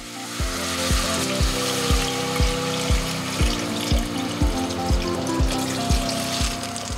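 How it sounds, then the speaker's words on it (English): About a liter of water is poured into a soup pot of browned ingredients, a steady splashing pour over rhythmic low thumps, loud and close without speech. "add approximately 1 liter of water and let it come to a boil"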